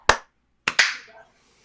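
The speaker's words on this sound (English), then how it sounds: "3, 2, 1, clap." Sharp hand claps ring out in a quiet room, one alone and then two quick ones close together, each fading fast.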